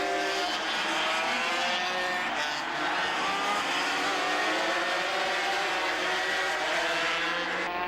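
A racing motorcycle engine revs hard and pulls away after a crash at a chicane. A loud, continuous high whine climbs in pitch through the gears, close and dominant throughout.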